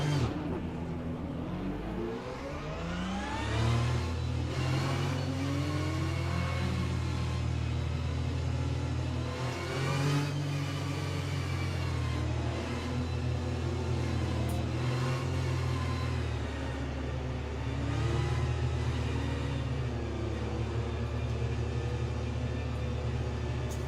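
Race car engines rumble and rev throughout a formation lap in the Le Mans Ultimate sim racing game, a steady low drone with rising and falling revs from several cars close by.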